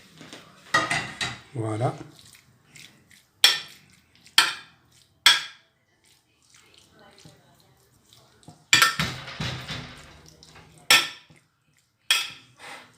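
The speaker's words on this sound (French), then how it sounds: "on ajoute la viande hachée" Minced meat for a hachis parmentier (a mashed-potato and minced-meat gratin) is tipped into a pan and stirred, giving sharp utensil-on-pan clatters in uneven bursts, with a brief spoken word in between.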